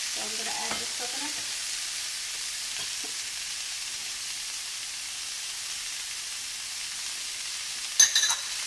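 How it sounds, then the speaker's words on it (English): Shredded cabbage fries in a pan as dried, unsweetened shredded coconut is added, giving a steady, even sizzle and hiss throughout, with a short sharp clatter near the end. "So I'm going to add this coconut."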